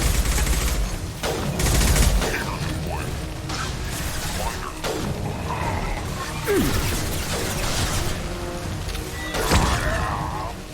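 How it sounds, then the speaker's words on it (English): Mass Effect 2 combat firing an impact shot: scattered gunshots and clanking mechanical noises over a busy battle mix, with a few sharp bursts standing out amid steady background din. "Firing an impact shot."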